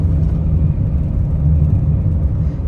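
Continuous low engine and road rumble from a moving car, steady and fairly loud, heard from nearby with no talking.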